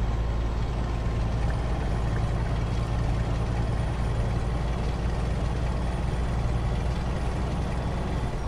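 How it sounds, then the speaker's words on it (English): Six-cylinder open-pipe truck engine in Euro Truck Simulator 2, a steady deep rumbling drone held at constant loudness throughout, close and continuous with no talk over it. "This is just the 6-cylinder open pipe, so it's not a V8."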